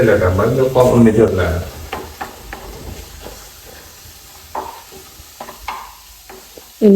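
Tomato, green chilli and crushed garlic stirred in a pan, with soft scraping and light sizzling that follow a short stretch of voices at the start, then scattered spoon knocks and clinks against the pan.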